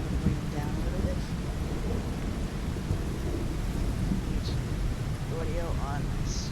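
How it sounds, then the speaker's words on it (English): A steady, loud rainstorm with rumbling thunder in a dinosaur survival video game, a constant wash of rain throughout with a few brief higher calls over it. "Oh wow, that is loud. Rainstorm to load into."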